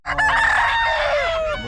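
Chickens at a rooster sale in Bocaue, with a loud, close rooster crow ringing out in a long drawn-out call over a steady background of clucking and farmyard noise.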